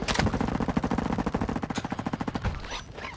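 Rapid automatic gunfire in Call of Duty: Modern Warfare II, a steady fast burst of shots lasting about two and a half seconds before trailing off, moderately loud.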